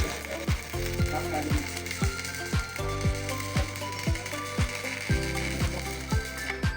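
A stick-electrode rod burns continuously from an IGBT inverter welder at low current, laying a layer: a steady crackling sizzle with regular sharp clicks and a low rhythmic mechanical tick beneath, sustained and close.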